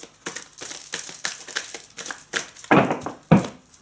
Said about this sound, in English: Just give them a bit of a shuffle.